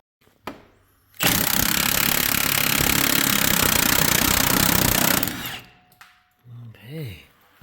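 A Milwaukee Fuel impact tool hammers loosely at tight, rusty bolts on a 2011 Ford Escape in a loud, steady rattling burst of about four seconds. It then cuts off, and a voice speaks briefly.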